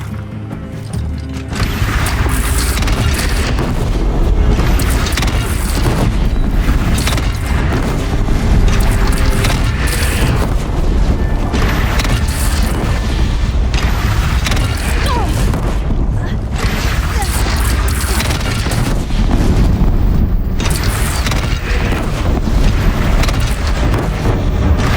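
Cannon fire and explosions in a Horizon Zero Dawn battle against a bandit clan: loud, continuous heavy booms and crashing blasts layered into a dense, rumbling din that runs throughout.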